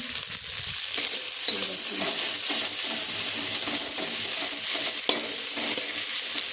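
Home cooking with food, likely tomato, frying in oil in a pan, giving a continuous close sizzle with stirring scrapes and one sharp clink near the end.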